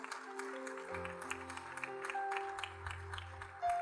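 A church congregation claps in praise during a service, scattered claps mixed over sustained keyboard tones, modest in loudness with an uneven rhythm.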